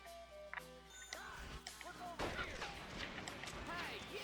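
Gunfire in the video game Red Dead Revolver, with sharp shots and impacts over game music and effects, fairly faint.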